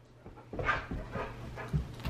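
A pet dog in a home makes soft whimpers, snuffles and small vocal sounds in a few uneven bursts, close by and fairly quiet, with no one speaking.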